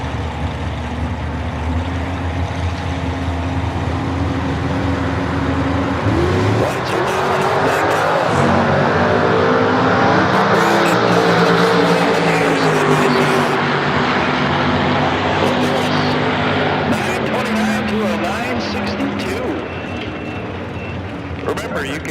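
Drag race at a dragstrip between a 440 cubic inch Dodge-powered Willys and a 1937 Chevrolet, engines roaring loud and steady for about twenty seconds with a broad rumbling drone, while an announcer talks over it.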